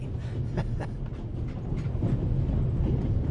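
A steady low rumble of a moving train in the video game The Raven Remastered, continuous and fairly loud throughout, with a few faint higher clatters near the start and no talk.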